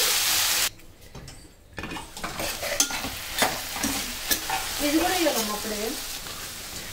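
Puri curry with green chilli paste sizzling in a pan as a spoon stirs it, quick scraping strokes over a crackling fry, with a soft hiss at the start and a short gap before the stirring resumes.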